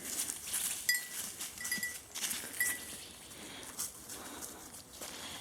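Goats wander through spring woods, with faint, distant bleats and rustling movement over a quiet outdoor background with occasional birdsong.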